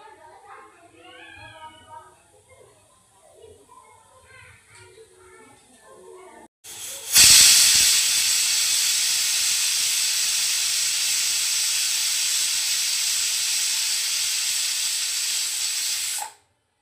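A pressure cooker with mutton inside lets out a loud, sustained steam whistle and hiss lasting about ten seconds, starting abruptly after a quieter stretch with a voice talking and stopping sharply.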